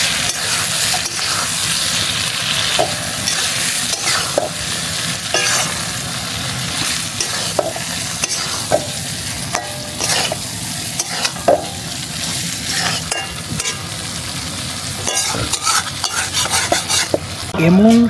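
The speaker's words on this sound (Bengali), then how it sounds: "ভালো করে নেড়ে চেড়ে দিব।" Chicken kala bhuna with its spice mix fries in a pan while being stirred steadily, a continuous close sizzle dotted with repeated clinks and scrapes of the utensil against the pan.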